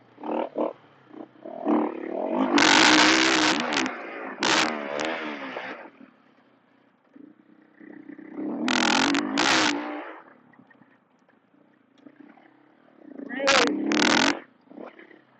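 A 2026 Husqvarna FE501 dirt bike ridden around a motocross trail lap, its engine roaring in loud revving bursts that rise and fall with quieter gaps between them.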